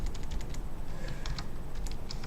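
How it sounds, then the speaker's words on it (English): Rapid typing on a computer keyboard while coding in Java, a continuous patter of close, crisp key clicks with no talking. "Yes, I'm typing very specially."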